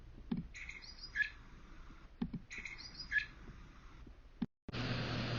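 A blackbird repeats the same short whistled phrase twice, each time ending in a bright flourish, with soft thumps between the phrases. The recording then cuts to a steady band of noise.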